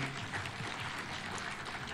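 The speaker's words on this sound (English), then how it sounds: "A better applause for Waziri Mbadi." A conference audience at a devolution gathering applauds steadily, a dense wash of many hands clapping close and continuous throughout, with no speech over it.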